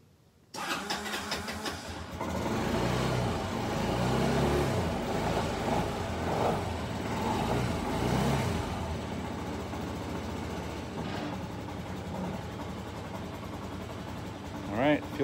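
Kymco Bet and Win 250 scooter engine cranking and catching after a short pause, then settling into a steady, close idle with slight rises in revs; a brief sharper noise comes near the end.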